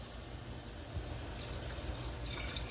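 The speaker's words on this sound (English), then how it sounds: "Now you will need to add water." Water pours steadily into a cooking pot for making cornmeal grits with spinach and carrot, a soft continuous splashing fill, close and moderately quiet, with a faint thump partway through.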